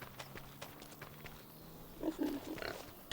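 Pigs on a farm in Farming Simulator 25 grunt and snuffle, soft and fairly close, with a louder cluster of grunts near the end over a low steady farmyard hum.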